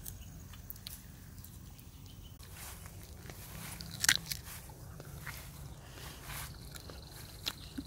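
Someone bites into a slightly unripe green papaya in a fruit orchard, giving a single crisp crunch midway through over a quiet outdoor background.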